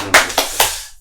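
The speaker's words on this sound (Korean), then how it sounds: "자, 박수 한 번." Three sharp claps spaced a beat apart, the last trailing off, from a studio host prompting applause during a Korean MLB 2020 season preview broadcast.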